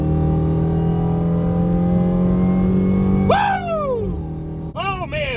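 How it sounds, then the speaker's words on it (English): A Dodge Durango Hellcat accelerates hard with a loud, rising engine roar from inside the cabin. Two sharp gear-change drops break the sound before it climbs again. "We are moving in the Dodge Durango Hellcat"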